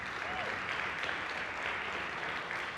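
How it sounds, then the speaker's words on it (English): Conference audience clapping in a steady, dense wash of applause, moderately distant and even throughout. "let's give them a round of applause"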